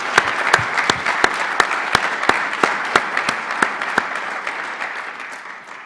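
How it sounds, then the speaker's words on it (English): An audience in Hannaford Hall at the E2Tech Expo morning session gives a round of applause, with soft massed clapping punctuated by sharp, evenly spaced claps from one nearby person, fading gradually toward the end. "Please join me in a round of applause."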